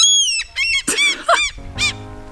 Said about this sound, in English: That was the seagull.